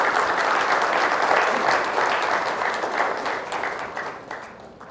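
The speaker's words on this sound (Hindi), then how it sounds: "तो एक बार जोरदार तालियां खुद के लिए।" Enthusiastic applause from a seminar audience in Ahmedabad, thick continuous clapping that peaks early and slowly fades toward the end.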